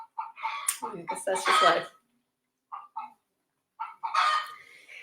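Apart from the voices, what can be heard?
chickens clucking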